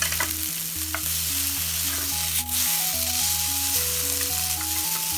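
Yakisoba noodles fry in browning butter in a pan, a steady close sizzle with faint scrapes, alone under a low musical hum.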